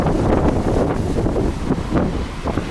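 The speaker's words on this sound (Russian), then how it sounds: "Реально, вот когда ветер дует," Strong winter wind buffeting the microphone at a seaside spot in Alanya, a steady dense roar with gusty swells throughout and no voices.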